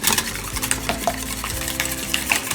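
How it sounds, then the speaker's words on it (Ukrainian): A utensil stirs Belgian waffle batter made with almond flour in a bowl, steady rhythmic scraping and wet swishing strokes up close, with light clinks against the bowl. "Також ретельно все розмішую."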